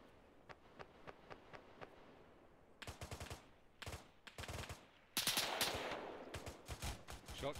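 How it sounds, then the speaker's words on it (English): Gunfire in the military video game ArmA 3: a run of distant single shots, then louder bursts of rapid automatic fire, growing denser and nearer toward the end, with faint voice traces underneath. "Shots coming in."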